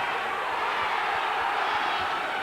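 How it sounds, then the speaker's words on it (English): A boxing crowd at a title fight between Darren Bruce and Willy Wise gives off a continuous distant roar of cheering, steady and moderately loud throughout. "There go the crowd as Bruce gets a couple of shots home."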